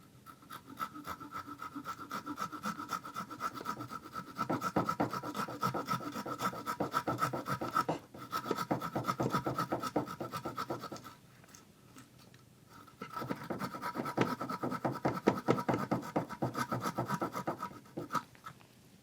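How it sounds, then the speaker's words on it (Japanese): A thin Gomboy pull saw cuts a wooden koshikake kama-tsugi splice joint in Japanese carpentry, making close, rapid rasping strokes in two long steady bursts separated by a short pause, with a brief quieter break partway through. "こういうゴムボーイみたいな細いやつって入るので、これで切ってあげます"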